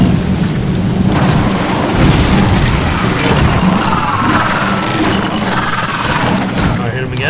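A dense, roaring burst of fire rumbles loud and steady in Lego Marvel Super Heroes on PC, a broad booming whoosh with no clear breaks and no talk over it.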